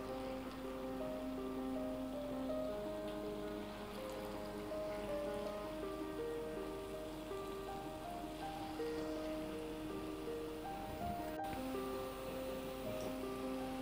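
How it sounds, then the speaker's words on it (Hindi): Mysore bonda batter fries in very hot oil, giving a steady, dense sizzle and crackle like light rain that continues evenly throughout, close and moderately loud. "बूंदों को आराम से तेल में छोड़ें क्योंकि तेल काफ़ी गर्म है।"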